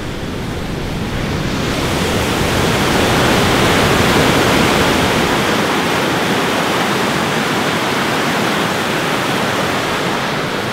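A small waterfall rushing steadily, a loud close broadband wash of falling water that holds unbroken throughout with no voices.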